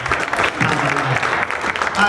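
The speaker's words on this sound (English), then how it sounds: "Nice round of applause for Pam." Audience applause for Pam at a celebration of life for Mark Wilde, a steady wash of clapping from a nearby crowd with some voices mixed in.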